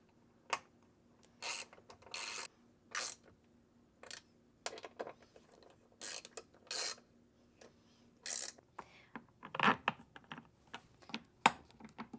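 A screw being driven through a thick plastic clip during a Ford Bronco speaker upgrade, heard as a series of close, sharp ratcheting bursts separated by short pauses.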